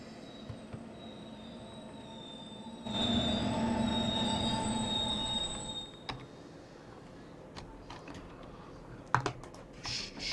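Intercity IC2 train braking to a stop in Train Sim World 2, with a long metallic wheel squeal that swells for a few seconds and then fades, followed by faint clicks and cab noises.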